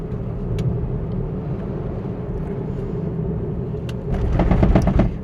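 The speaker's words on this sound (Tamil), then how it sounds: "இன்ஜின் நாய்ஸி தான் கண்டிப்பாக." Inside a Maruti S-Presso on an evening drive, the three-cylinder engine drones as a steady low cabin rumble, with a few faint clicks and a rise in road and engine noise near the end.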